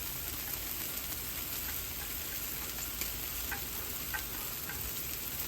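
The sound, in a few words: smash burgers, bacon and onions frying on a Blackstone griddle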